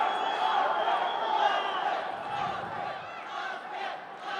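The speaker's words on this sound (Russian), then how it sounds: "Вы слышите, как скандируют болельщики его имя." Fans chant a fighter's name in unison at an MMA event, a loud and sustained crowd roar that swells and ebbs steadily as the bout is about to begin.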